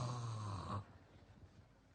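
A voice imitates snoring, giving one nasal, rattling snore that stops abruptly and leaves faint room noise.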